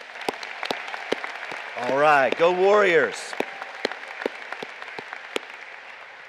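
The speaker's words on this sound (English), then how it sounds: "please join me in a huge round of applause for these amazing graduates" Scattered, sparse clapping from the audience at a 2023 high school graduation, with a voice briefly cheering loudly over it.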